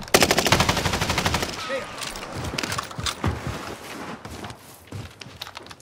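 Rapid automatic gunfire bursts in the Call of Duty Warzone Pacific battle royale, a loud fast machine-gun volley up front, then scattered single shots and impacts, with voices heard in the mix.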